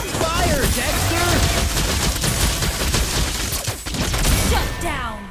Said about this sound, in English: Fire, Dexter!